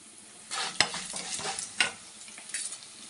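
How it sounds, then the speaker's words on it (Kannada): Ingredients for a gojju curry frying in a pan, a low sizzle with a few distinct stirring scrapes spaced about a second apart, close and quiet. "ಇದೆಲ್ಲ ಒಂದು ಸ್ವಲ್ಪ ಫ್ರೈ ಆಗಬೇಕು"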